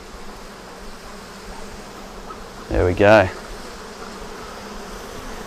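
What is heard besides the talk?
bees buzzing around an open balcony beehive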